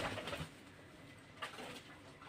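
Pigeons at a pigeon farm coo softly in a couple of low, rounded calls over a faint background hum.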